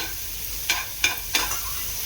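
Boiled mushrooms cook in butter in a pan, giving a steady low sizzle with four spaced scraping strokes of a spoon stirring them, close up and with no talking.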